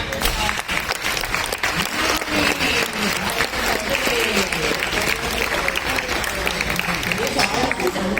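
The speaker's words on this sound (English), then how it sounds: "Let's give them a round of applause." Sustained applause from a crowd at the hot glass demo amphitheater of the Corning Museum of Glass, New York, dense clapping that carries on steadily, with scattered voices mixed in.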